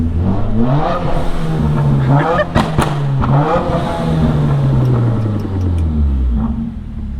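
A Stage 3 Subaru WRX accelerates hard nearby, its engine revving up in loud, rising sweeps, briefly dropping, then climbing and fading as the car pulls away.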